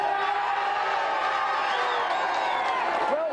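Studio audience of a TV video-game show cheering and whooping: a dense, continuous crowd roar with rising whoops and shouts throughout, loud and close, with no clear speech over it.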